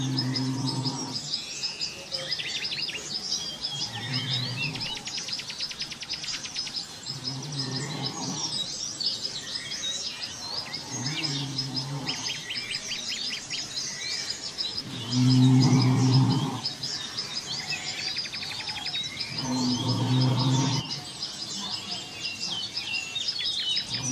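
Birds sing and chirp in a deep forest, with bright repeated calls layered over one another, while low lowing, cattle-like moans swell up at intervals.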